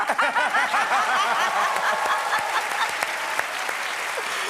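Audience applause fills a Korean comedy-club stage show, dense steady clapping mixed with scattered laughter and a voice chuckling over it, loud and continuous throughout.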